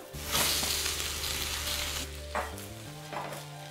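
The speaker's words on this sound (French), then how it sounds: "On vérifie que la pâte d'en bas est cuite avant de retourner doucement l'okonomiyaki avec 2 spatules." Hiroshima-style chicken okonomiyaki sizzling on a hot griddle as two spatulas flip it, a steady frying hiss broken by a few scraping clatters from the spatulas, close and clear with no talking.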